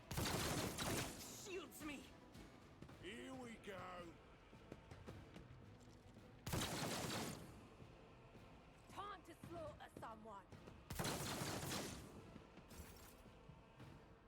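Turrets in Warhammer 40,000: Rogue Trader open fire in three heavy loud bursts of rapid shots, each followed by fading clatter, with a voice talking over the quieter stretches between.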